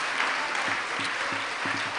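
A church congregation at a Bible study applauds in praise, a steady, continuous wash of clapping with a faint low murmur beneath it.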